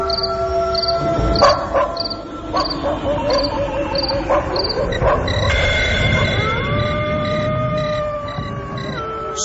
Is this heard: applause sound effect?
no